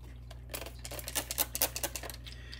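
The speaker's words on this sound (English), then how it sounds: "Do some laps on water, and then we'll do some laps on soapy water." A Filarmonica 14 straight razor is stroked in laps across a water-wetted hone, giving a series of quick, scratchy swishes in an irregular rhythm over a low steady hum, close and fairly quiet.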